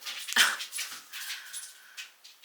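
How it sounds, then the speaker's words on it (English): Dogs whimpering and yipping in the background indoors, a few thin high-pitched whines and short yelps, one louder near the start and then fainter whines trailing off. "ignore the dogs in the background"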